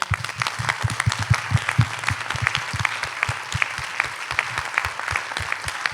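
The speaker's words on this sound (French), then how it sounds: "Merci d'applaudir nos intervenants." Audience applause for the speakers at the close of a French public talk on social and human relations, steady clapping from a seated crowd with crisp individual claps up close, continuous for the whole stretch.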